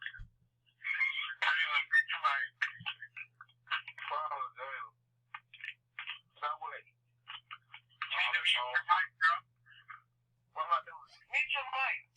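Thin, narrow-band voices come through an unmuted phone on a call, with bursts of talk separated by short silences and a low steady hum underneath, sounding tinny and compressed.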